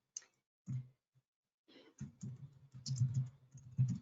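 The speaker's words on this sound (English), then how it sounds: "So I'm going to type in" Typing on a computer keyboard while entering an organization's name into a verification form, heard as sparse, separate bursts of clicks and taps that grow more frequent toward the end, close and alone with no talking.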